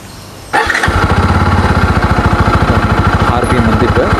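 A Bajaj Pulsar N250 motorcycle engine catches and runs loud and close with a fast, even pulsing throb, rising briefly as the throttle is revved. A voice talks before it starts.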